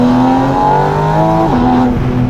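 Naturally aspirated engine of a Porsche 718 Spyder RS revs hard under load, loud and close, its rising harmonic wail dipping at a gear shift before climbing again, continuous throughout.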